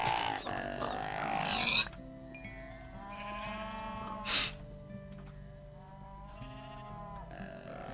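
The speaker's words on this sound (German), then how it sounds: "Und die Ziege nehme ich mit." A goat in the Minecraft video game gives a couple of clear, nasal, wavering bleats over a steady game background hum, with no talking.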